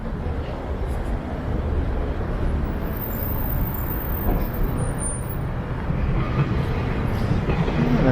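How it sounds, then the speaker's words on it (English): A train rolls past beneath the Gardiner Expressway near the City Place neighbourhood, a steady near rumble that holds for the whole stretch with traffic noise mixed in. "And another train going by."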